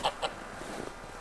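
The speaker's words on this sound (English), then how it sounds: "You can probably hear them already. It's the geese, Cindy's favorite." Two quick, faint honks from American buff geese on a farm, heard at a distance in a quiet outdoor setting.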